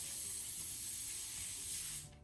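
Trader Joe's coconut oil cooking spray hisses in one steady, close burst onto parchment for about two seconds, then cuts off abruptly into quiet.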